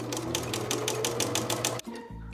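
A sewing machine runs a tote bag seam in a fast, steady rattle of needle strokes up close, then stops abruptly at the corner with a brief clunk of the mechanism.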